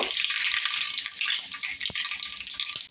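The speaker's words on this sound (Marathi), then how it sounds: "फोडणी छान तडतडली आहे." A tempering of cumin, mustard seeds and asafoetida crackling and spitting steadily in oil with sharp pops scattered throughout, a bright busy sizzle close by with no talking.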